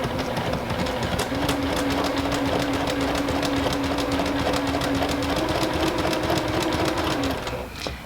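Sewing machine stitching a small quilted treasure bag, a fast steady mechanical whir and needle clatter running continuously for several seconds before slowing to a stop at the end, close and loud.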